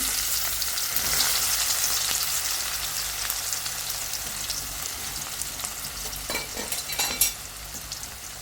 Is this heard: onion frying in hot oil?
yes